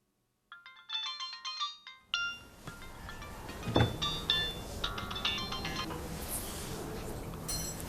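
A phone's electronic ringtone for an incoming call plays a repeating tonal melody, loud and close, then cuts off into room noise and scattered clinks.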